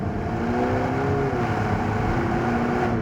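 A Mini John Cooper Works drives steadily through a tight turn, its engine a continuous, fairly loud hum with a rising tone throughout, with no voices.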